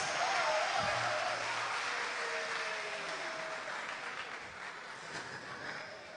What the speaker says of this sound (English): can we have a round of applause to acknowledge our keyboardist?